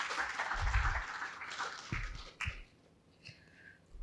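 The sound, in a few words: audience applause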